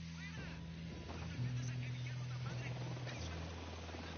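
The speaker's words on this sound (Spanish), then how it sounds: "Helicóptero, cúbranse." Helicopter flying overhead in a military shooter video game, a steady low rotor drone under layered game effects and a voice giving callouts.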